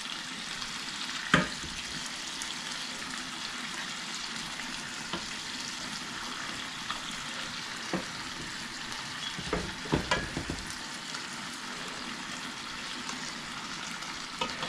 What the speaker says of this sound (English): It sounds like it's cooking, but it's not cooking. It's only the remaining of the heat of the stove that I shut off